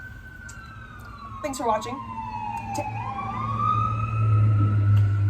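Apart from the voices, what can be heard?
emergency vehicle sirens outside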